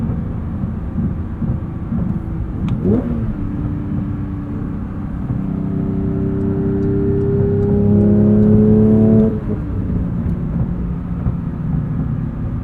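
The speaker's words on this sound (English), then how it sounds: "This engine's derived from the GT3 Cup car, modified and enhanced from the Porsche Speedster." A 2022 Porsche 911 GT3 with a manual gearbox and a Cup-derived engine drives along, its engine a steady close rumble that climbs in pitch through the gears, rising and then dropping back.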